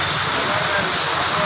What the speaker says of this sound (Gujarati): સુરેન્દ્રનગર જિલ્લામાં સુપડાધારે વરસાદ ચાલુ